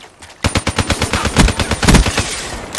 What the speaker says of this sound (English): this fucking man of war has so much recoil